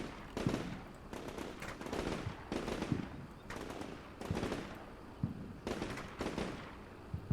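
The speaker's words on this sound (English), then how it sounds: "they are getting shot at up there" Bursts of gunfire from a war video game set at the Red Barricades, with repeated rapid volleys and single shots spread across the clip at steady loudness, no talk.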